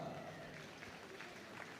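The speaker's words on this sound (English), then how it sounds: "Entering the arena to really warm applause." Warm crowd applause in a dog show arena as family crossbreed dogs enter for the Scruffts semi-final at Crufts 2022, a soft, distant wash of clapping filling the large hall.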